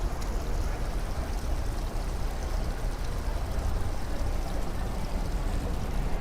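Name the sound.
water in downtown Miami at night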